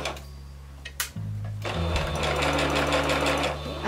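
A sewing machine runs in a short burst after a brief pause, its fast even mechanical whirr stitching and locking a seam on fabric up close.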